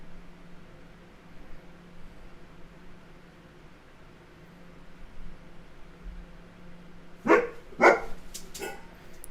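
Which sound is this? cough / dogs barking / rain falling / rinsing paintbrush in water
dogs barking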